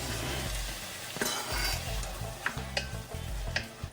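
Chopped tomato hisses in a hot frying pan as it is stirred, a steady sizzle broken by several soft scraping strokes of the spoon across the pan, close and fairly quiet.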